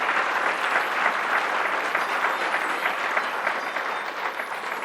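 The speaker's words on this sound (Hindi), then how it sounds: "ताली जोर से बजनी चाहिए।" Steady, sustained clapping from an audience at a Hindi devotional talk, a dense even patter of many hands held at constant loudness throughout.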